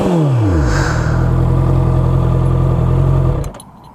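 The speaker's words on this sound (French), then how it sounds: "comme vous pouvez l'entendre, j'ai changé ma ligne d'échappement" A motorcycle fitted with a new exhaust system revs up from idle and holds a deep, loud, throaty drone for several seconds before cutting off abruptly.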